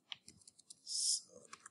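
Sparse, quiet computer keyboard clicks sound while code is written, with a brief soft burst of noise in the middle among the isolated key taps.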